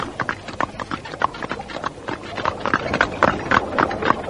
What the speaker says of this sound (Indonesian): Kusir kereta menyentakkan tali kuda.